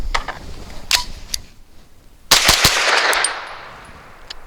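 Grand Power Stribog SP9 A3 9mm carbine firing outdoors, a few sharp shots early followed by a quick loud burst of several rounds with a fading echo.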